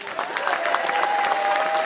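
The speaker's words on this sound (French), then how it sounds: "on applaudit très fort les amis" A hall audience at an evening show applauds loudly and steadily, a dense wash of many hands clapping at close range with no voices over it.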